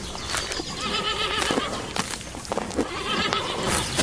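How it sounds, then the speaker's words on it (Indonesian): A horse neighs with shrill, wavering whinnies, close and fairly loud, mixed with hoof clip-clops and rustling background noise. "Horse, kuda."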